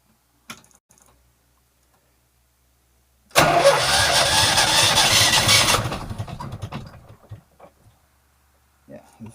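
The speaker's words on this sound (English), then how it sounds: "turn the engine over." A Volvo Penta MD11c marine diesel in a Nidelv 24 motor cruiser cranks and catches, a loud sustained burst of starting noise for a few seconds that then fades, with scattered clicks around it.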